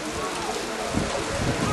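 Rain falls steadily on a football pitch during an amateur match between Anafartalarspor and Sarayspor, a dense, even hiss filling the short clip, with faint crowd or voice sounds beneath.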